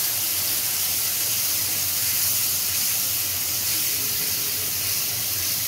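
Water poured into hot oil with turmeric, chili, coriander powder and salt while cooking pangas fish, giving a loud, continuous steamy sizzle and hiss that holds steady without pause.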